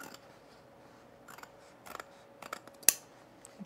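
Scissors trim a paper sewing pattern for men's cargo shorts, giving a handful of quiet, scattered snips and crisp cuts against a near-silent room, with no talk.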